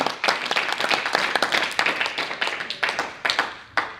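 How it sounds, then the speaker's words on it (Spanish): A church congregation claps in dense, uneven bursts of applause that rise and dip several times over a few seconds, with no one speaking. "Dale un fuerte aplauso al Señor si tiene mano"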